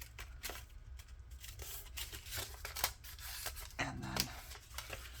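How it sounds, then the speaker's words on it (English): Paper being creased and folded by hand for a grungy junk journal, giving soft, close crinkling and brushing rustles in short bursts, with a few sharper crackles, at a low level. "So now I do want to fold here."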